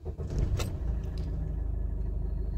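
A Maruti Suzuki Swift Dzire car running low on fuel cranks and starts, a brief clattering catch followed by a steady low idle rumble, close and fairly quiet.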